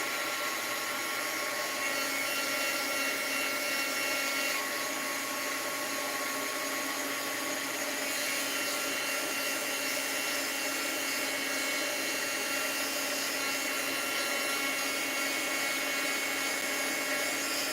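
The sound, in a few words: heat tool blowing hot air onto bleached fabric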